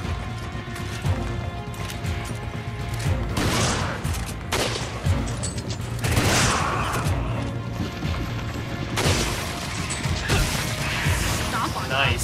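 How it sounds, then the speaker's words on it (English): Rapid bursts of gunfire in Resident Evil 5 co-op crackle steadily throughout, with heavy impacts and mechanical clatter, while voices talk over the action. "I still hear gunfire."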